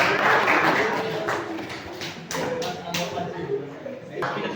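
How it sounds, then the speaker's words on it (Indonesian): A classroom group at a teacher-training discussion session gives a round of applause, scattered claps rising and falling over several seconds, mixed with voices talking. "Kita berikan tepuk tangan dulu."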